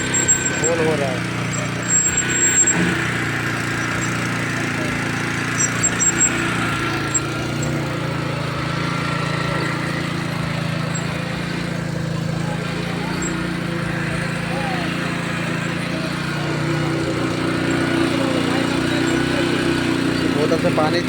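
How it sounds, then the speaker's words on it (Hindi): A small engine-driven rail hole drilling machine drones steadily and loudly nearby, boring a hole in a railway rail for the whole stretch, with someone talking over it. "Rail whole drilling machine whole हो रहा है।"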